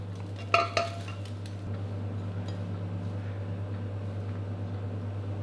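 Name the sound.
spatula stirring oyster omelette frying in a pan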